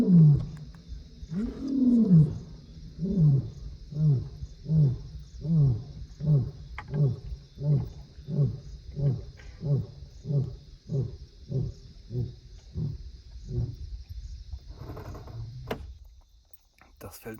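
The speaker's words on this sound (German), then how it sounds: "Wenn die Löwen nachts direkt um einen rumschleichen" At night in Mana Pools, a lion near a parked car lets out a long series of deep, grunting roars that slow and fade toward the end, over a steady high insect drone, with a faint whisper near the close.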